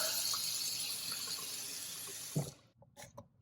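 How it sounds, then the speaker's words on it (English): Tap water pours steadily into a cup of joint compound for a wall crack repair, a bright hissing stream that stops abruptly after a couple of seconds, followed by a few small knocks. "Now we'll just add a little bit of water."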